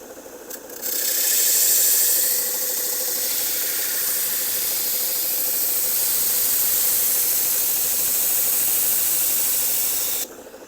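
Knife blade ground on a Tormek wet sharpening wheel, a steady loud hissing rasp that holds evenly for about nine seconds before stopping, with no voices.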